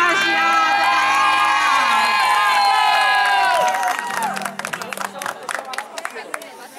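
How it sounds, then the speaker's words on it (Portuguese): A lively crowd at a birthday party cheers and calls out, then the voices thin into a burst of scattered hand clapping over the last few seconds. "Uma salva de palmas para o nosso homenageado."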